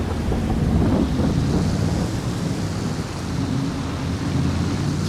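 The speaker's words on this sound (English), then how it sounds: "I think we can get it out of the weather over there, so the rain's not dropping on it." Farming Simulator 22 game weather: steady heavy rain hisses on surfaces while low thunder rumbles through, with a louder roll near the start, and no one speaks.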